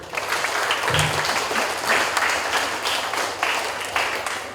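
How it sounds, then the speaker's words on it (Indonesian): A crowd claps steadily at an elementary school farewell and graduation ceremony at SD YPPK Santa Ursula, a dense, even wash of applause filling the room throughout. "Ya, kita beli aplaus dulu."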